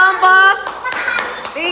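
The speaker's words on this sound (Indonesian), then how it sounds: "Beri tepuk tangan untuk kelompok" In a primary school classroom, a group claps for a team of pupils in a short, scattered burst of hand claps that follows a brief voice.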